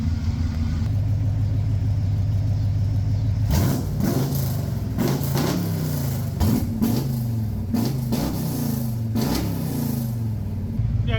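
A carbureted hot rod engine, refired after heat soak, runs at a steady lumpy idle, then takes a string of sharp throttle blips, each rev rising and falling back, close and loud.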